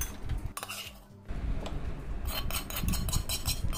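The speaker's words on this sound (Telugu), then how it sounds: "ఆ తర్వాత కొంచెం వంకాయలు, టమాటాలు కొంచెం కొంచెం వేసుకుంటూ పచ్చడిని నూరుకోండి" Brinjal and tomato chutney pounded and ground in a stone mortar, giving a steady run of scraping, knocking strokes with clinks, close and fairly loud, briefly pausing near the start before continuing.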